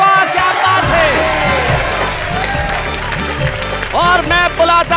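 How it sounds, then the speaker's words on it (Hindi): Audience applause and cheering at a televised Hindi comedy show, a dense crowd clapping loudly and continuously with whoops and music underneath throughout. "तो आइए हम उस कार्यक्रम में बजाते हैं तालियां"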